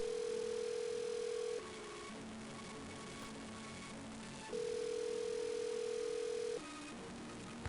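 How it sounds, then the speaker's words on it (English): A telephone in the Nancy Drew game Secrets Can Kill gives off steady electronic tones as a number is dialed, two long, clear, faint beeps separated by a quiet gap, with no talking. "Nancy, quit playing with that phone and get back to work."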